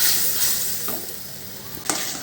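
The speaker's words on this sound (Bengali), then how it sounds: "এইভাবে নাড়তে থাকবো, না নাড়লে নিচে ধরে যেতে পারে, তাই নাড়লাম কিছুক্ষণ" Masala and ginger-garlic stirred in oil in a pan for a bhola fish curry: a dense hiss of frying with two or three distinct scraping strokes against the pan, no voices.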